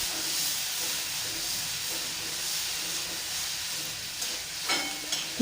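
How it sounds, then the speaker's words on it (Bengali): Jujube sweet pickle with water simmering in a covered pot makes a steady, close steam hiss with faint bubbling, and a few soft knocks near the end. "এবার এর মধ্যে প্রয়োজন মতো জল দিয়ে এটা ঢাকনা বন্ধ করে ফুটতে দিতে হবে।"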